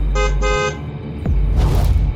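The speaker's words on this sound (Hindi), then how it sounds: "एक टैक्सी उसके घर के सामने आकर रुकी और हॉर्न बजाया" A taxi's horn honks twice in quick short beeps as it stops in front of a house, nearby and loud, followed by the whoosh of traffic passing.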